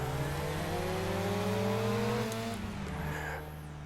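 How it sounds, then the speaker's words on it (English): A tuned Mazda RX7 engine revs steadily while driving, a loud, close, continuous drone with rising tones that eases slightly near the end. "we'll see what it's like to drive a crazy RX7"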